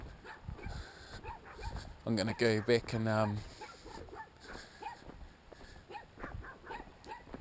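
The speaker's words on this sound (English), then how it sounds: "damn sister's dogs." Dogs bark and whine near a street with vintage street lights, a short burst of barking rising under a voice that talks throughout.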